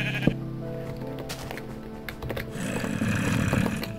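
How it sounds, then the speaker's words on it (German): Sheep bleat in the Minecraft video game, a wavering, nasal cry repeating over continuous background game sounds, fairly close and clear. "Na Schaf, komm mal her."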